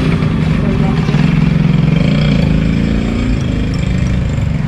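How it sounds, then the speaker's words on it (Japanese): A motorcycle engine runs steadily close by on a busy Chinatown street in Bangkok, its continuous mid-pitched drone layered over the general bustle of a crowded market lane. "ほらこんなところバイクも走ってくるし。"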